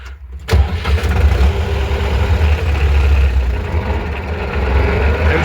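A tractor engine runs steadily at idle after a brief start at the beginning, its low rumble loud and close as heard from inside the cab, with no talking.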